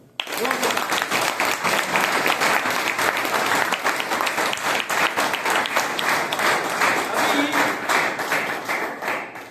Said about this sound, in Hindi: ताली बजा लो।